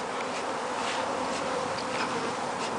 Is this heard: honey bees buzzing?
yes